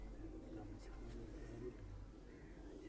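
Low, steady cooing from an Angrez breed pigeon, a soft continuous murmur running throughout, fairly close, with faint background chatter and other birds around.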